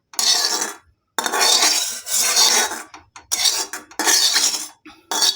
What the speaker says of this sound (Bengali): তেলটাকে ভালো করে একটু কড়াই মাখিয়ে নিচ্ছি।